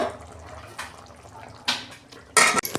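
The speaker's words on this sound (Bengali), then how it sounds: "গ্যাসের ফ্লেমটা আস্তে করে আমি 2 মিনিট ঢাকা দেবো" Metal lid set down over a pan of potato and prawn curry simmering on a low gas flame, a few sharp clanks near the end following softer clatter, with faint sizzling underneath.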